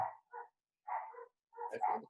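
Several riled-up dogs barking in short bursts indoors during an online webinar, three separate bark clusters with gaps of silence between them, moderately loud and close.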